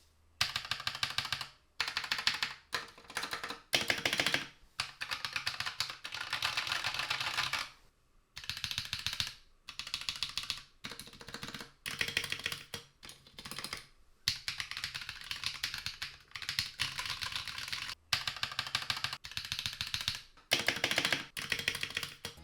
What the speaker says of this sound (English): I went with the Butyl Rubber because this gives a much more thocky, deep sound to your keyboard